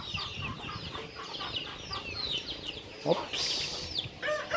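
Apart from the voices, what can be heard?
roosters fighting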